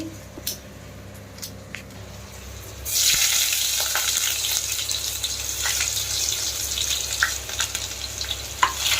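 Sliced onions hit hot oil in a pan for a fish curry, starting a loud, steady sizzle and crackle up close that continues to the end, after a few quiet clinks.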